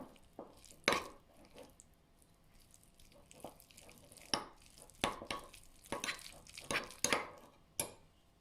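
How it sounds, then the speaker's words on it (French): Chicken filling with spinach and cheese being stirred in a bowl, giving irregular, fairly close knocks and scrapes of a utensil with quiet pauses between them and no talking. "Je mélange un peu."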